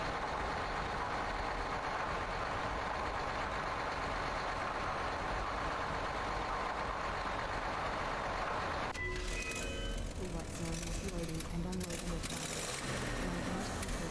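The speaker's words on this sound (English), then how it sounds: "Sound of the loader engine echoes through the maintenance bay." A front loader engine idles in a maintenance bay in the video game STASIS. It gives off a steady, echoing mechanical rumble that shifts partway through into a lower, more uneven throbbing.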